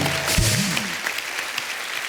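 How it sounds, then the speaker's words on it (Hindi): Studio audience on a Mother's Day special talk show applauding, a steady, dense wash of clapping held at an even level throughout, with a brief voice fragment and tonal sound near the start. "तो एक बार फिर से अपनी अपनी मम्मी के नाम पे तालियां हो जाए।"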